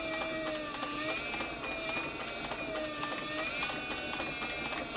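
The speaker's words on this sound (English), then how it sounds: "I like this servo motor because you can just really slow it down and concentrate on sewing right in the groove." A servo-motor sewing machine slowly stitches thick leather, giving a steady, close whirring hum with a faint rising and falling whine and an even ticking of the needle throughout.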